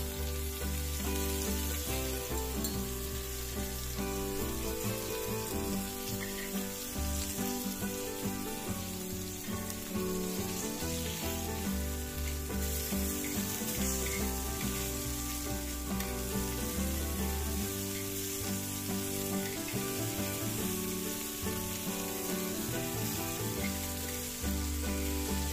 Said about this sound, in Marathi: मॅरिनेटेड प्रॉन्स तांदळाच्या पिठात कोट करून घ्यायचे आणि मग एक एक करून तव्यावर ठेवायचे